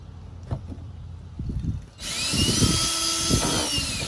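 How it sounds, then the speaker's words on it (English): A power drill starts up after some quiet handling noises and whirs steadily and loudly for about two seconds, close by, drilling out holes while installing a Camco Quickie Flush. "I'm going to drill out the other two now"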